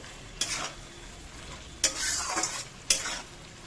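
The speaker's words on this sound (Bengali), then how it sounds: "চিকেনটা কষানোর সময় দারুণ একটা গন্ধ ছাড়ছে" Marinated chicken sautés in a pan with a soft sizzle, broken by three sharp scrapes of a spatula stirring against the pan, close and without talk.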